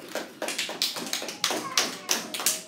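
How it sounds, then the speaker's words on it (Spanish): Children in a classroom applaud the girls after a math game, a string of quick, uneven clapping bursts that rise and fall, moderately close with some overlap. "Muy bien, un aplauso a las chicas"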